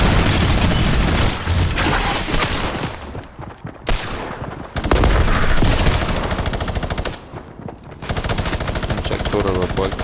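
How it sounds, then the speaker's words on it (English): Rapid automatic gunfire from a weapon in Fortnite, loud dense bursts of repeated shots with brief pauses between volleys and some explosive booms, continuing across the whole stretch. "I'll fire the gun now."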